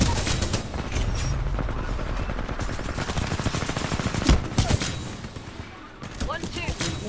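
Gunfire from a turret in the Titanfall 2 multiplayer game, with sustained rapid bursts and a few heavier impacts mixed in, under a busy game soundscape that has some voice in it.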